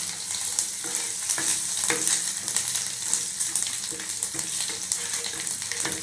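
Cumin, vadagam and curry leaves crackle and sizzle in hot oil for drumstick sambar, a busy, continuous popping fry with frequent sharp spits and some stirring, close and fairly loud, with no voices.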